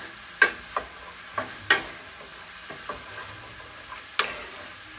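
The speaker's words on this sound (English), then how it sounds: "And we're going to let this saute" Potatoes and carrots sautéing in a pan for chicken pot pie, a low sizzle broken by several sharp scraping stirs at uneven intervals, close, no voices.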